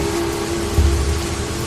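Steady rain hisses as a continuous, fairly loud wash beneath a low constant hum, with a faint low rumble partway through on a stormy night.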